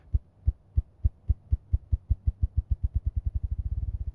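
A male grouse's courtship drumming display, a series of deep, soft thumps that start slow and steadily accelerate into a rapid roll over about four seconds. The thumps are fairly close and stand alone with no talk.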